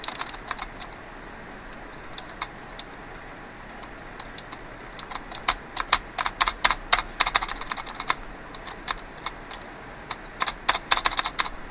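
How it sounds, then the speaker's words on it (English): Rapid clicky keystrokes on a rebuilt MX-mini mechanical keyboard, sparse at first and then coming in dense bursts, close and crisp against a quiet room with no talking. "It is very nice and clicky though."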